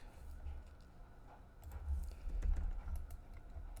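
Fingers typing on a computer keyboard, a steady run of soft clicking keystrokes that grows a little busier midway, heard fairly close with no talking.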